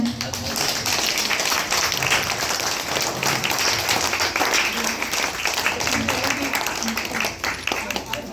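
A gathered audience at a memento presentation gives a sustained round of clapping, dense and even for several seconds, mixed with people talking over it.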